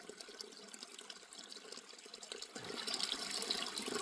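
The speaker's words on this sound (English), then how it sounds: "I got this nice little water source that even though it's tiny, I can hear it from where I'm at." A tiny mountain water source on a trail in Glacier National Park trickles and splashes softly, faint and continuous, growing slightly fuller near the end, with no talking.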